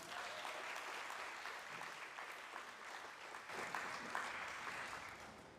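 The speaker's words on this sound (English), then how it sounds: "Can we have a round of applause for them, please?" A room full of people at a TEDxYouth event claps steadily, a soft even wash of applause heard from some distance, without speech.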